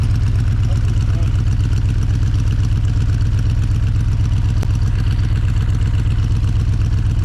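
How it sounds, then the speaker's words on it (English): A Cadillac 500 cubic inch V8 swapped into a Yugo idles with a loud, steady, throbbing rumble and an even, pulsing beat throughout. "what you're hearing there is just this Cadillac 500 cubic inch engine"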